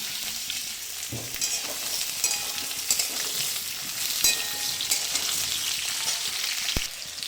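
Onions and potatoes frying in hot oil in a home kitchen, a continuous close sizzle broken by occasional stirring scrapes and clinks of a utensil against the pan.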